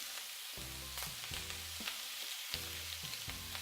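Sirloin steak frying in a hot pan gives a quiet, steady sizzle under several loud low humming tones from nearby equipment that repeatedly switch on and off.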